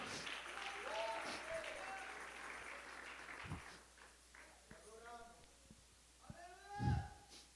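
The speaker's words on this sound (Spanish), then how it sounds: "Dele ese aplauso a Dios esta hermosa noche" Congregation applause in a church during an evangelist's evening service, a broad wash of clapping from many hands that swells early and tapers, with voices calling out over it and a louder burst near the end.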